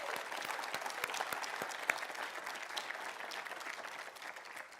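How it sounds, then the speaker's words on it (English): Round of applause from the crowd at a Hall of Fame event, steady dense clapping from many hands filling the room at an even level throughout. "I feel like he should get a little round of applause."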